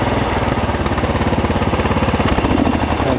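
A Sears Craftsman rear-engine riding mower, a 30-inch model, idles at low throttle with its small engine chugging in a steady, loud, close rhythm and no other sounds.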